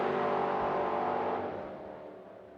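A little Ford Coupe drag racing car roars hard at full throttle down the strip, loud and sustained, then fades as it pulls away into the distance.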